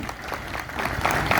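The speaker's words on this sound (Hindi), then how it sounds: "एक बार जोरदार ताली होना चाहिए।" Applause breaks out from a crowd at a one-day sit-in protest by Chhattisgarh cooperative society employees in Dhamtari, a short burst of rapid claps that swells toward the end with some voices mixed in.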